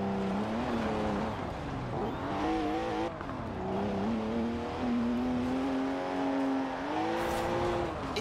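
A rear-wheel-drive BMW engine hums and revs while driving, its steady drone rising and falling in pitch as the car accelerates and eases off, continuous and close with no talk.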